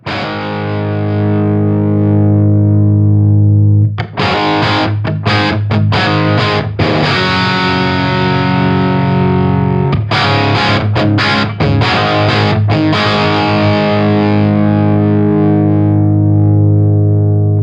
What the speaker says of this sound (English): you'll hear this thing will start to get into plexi style overdrive tones